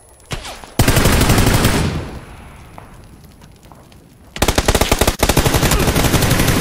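Rapid automatic gunfire from the battle royale game PUBG, loud, close bursts of machine-gun fire, then a quieter lull with scattered distant shots before another dense, sustained volley.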